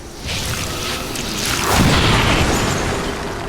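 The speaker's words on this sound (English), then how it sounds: "Now as to Brylight, he is going to utilize Fuse, which will detonate the grenade on that officer's belt." A grenade detonates on an officer's belt in the XCOM video game, giving a loud, close boom with a broad whooshing rush that swells and lingers without fading away.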